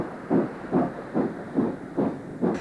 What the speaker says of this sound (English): 3628 is hauling the carriage set from the Blue Mountains train